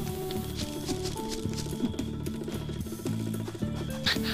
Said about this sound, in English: there's like little bongo drums playing whenever he takes a step